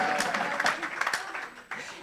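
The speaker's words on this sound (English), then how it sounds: "Why aren't you clapping?" Audience clapping at a university research week event, a brief scattered burst of applause mixed with crowd murmur, with a fresh surge near the end.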